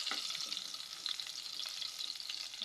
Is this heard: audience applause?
no